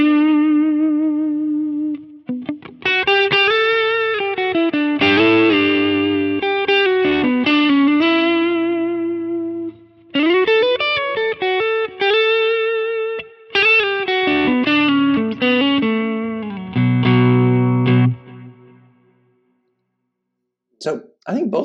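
An electric guitar played through a distortion pedal capture on a Quad Cortex rings out in loud, gritty chords and sustained notes, with phrases broken by short pauses.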